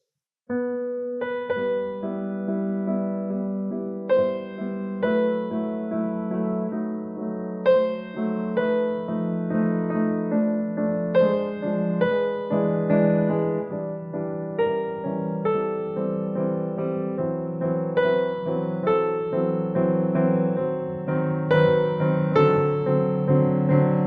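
Piano played as a run of distinct, detached notes, each struck separately with sharp attacks rather than flowing together, steady and close.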